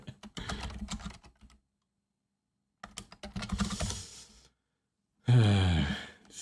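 Bursts of clattering computer keyboard typing and key handling, broken by a silent gap, followed by a closer, louder clunk of handling with a voiced sigh.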